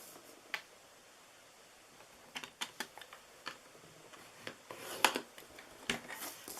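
A paper trimmer scores cardstock for a Christmas split fold card, producing faint, sparse clicks and light ticking taps at close range, with a quiet background.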